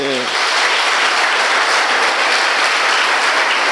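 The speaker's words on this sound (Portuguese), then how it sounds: "Será que vale um aplauso a ele esta noite?" A church congregation applauding during an evening sermon, loud sustained clapping from many people, a brief voice trailing off at the start before the applause takes over.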